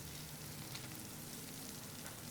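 Lumpiang togue, bean sprout spring rolls, fry in hot oil with a steady, dense sizzle that holds at an even level throughout, close and without talk.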